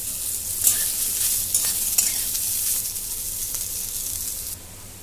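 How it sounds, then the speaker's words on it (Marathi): Onion frying in a pan until reddish brown for a Saoji chicken masala, a bright continuous sizzle with a few stirring scrapes, easing off near the end. "आता कांदा पण मी चांगला लालसर होईपर्यंत भाजून घेते."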